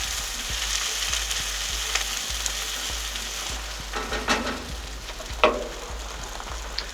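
Onions fry over high to medium heat in a curry pan, a steady close sizzle broken by a few stirring knocks and scrapes toward the end, with no talk.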